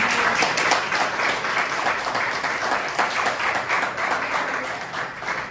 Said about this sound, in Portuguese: Dê um aplauso ao Senhor Jesus